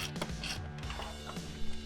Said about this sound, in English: So I'm going to take these out, screw them into here, and should have worked perfect.